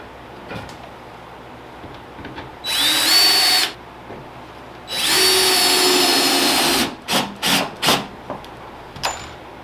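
A drill drives 1 5/8 inch screws into green cement board during a master shower build. Two loud whirring bursts rise in pitch and are followed by several quick short pulses, with quiet gaps between them.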